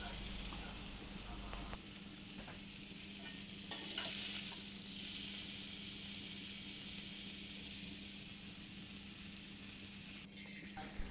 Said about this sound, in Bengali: দেখুন কপিগুলো ফ্রাই হয়ে গেছে